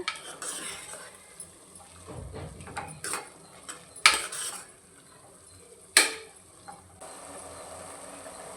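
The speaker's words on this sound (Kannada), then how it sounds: "ಈಗ ಇದನ್ನು ಚೆನ್ನಾಗಿ ತಿರುಗಿಸ್ಕೊಳ್ಳೋಣ ಮಸಾಲೆ ತಳೆ ಹಿಡಿಯೋಕ್ಕೆ ಬಿಡಬಾರ್ದು" A spoon stirs turmeric-spiced masala in a pot for tomato rice, making irregular scraping and clanking sounds, including two sharp metallic knocks, over a faint background sizzle.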